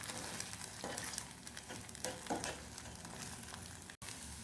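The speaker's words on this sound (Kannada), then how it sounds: "ಸ್ವಲ್ಪ ಪೆಪ್ಪರ್ ಪೌಡರ್ ಹಾಕಿ ಇದನ್ನು ಸ್ಕ್ರಂಬಲ್ ಮಾಡಿ ಈ ಥರ ಪೀಸ್ ಮಾಡ್ಕೊಳ್ಬೇಕು" Eggs with pepper powder are scrambled in a pan, giving a soft continuous sizzle with scraping stir strokes at an irregular pace, close and fairly quiet.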